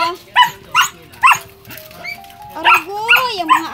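Dogs bark in short repeated bursts, loud and close, with voices talking and exclaiming between and over the barks.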